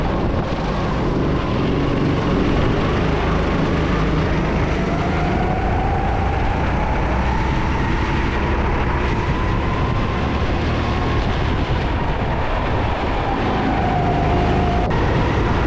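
Go-kart number 41 circuiting a kart track in Fréjus during an amateur racing tournament, a steady droning engine whine running continuously at close range, with faint pitch shifts as the kart passes through turns.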